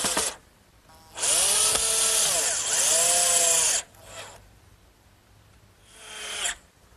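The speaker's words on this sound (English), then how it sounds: "I want to make sure I take the precaution of pre-drilling so I won't split this nice cedar." A power drill pre-drills holes in a cedar frame for a sandbox, whining loudly for two long sustained runs that rise and fall in pitch, then shorter bursts as the bit bites into the wood.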